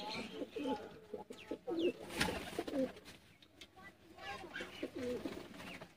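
Purebred umbrella-type fancy pigeons coo softly in repeated low phrases, with someone talking over them and other birds calling faintly in the background.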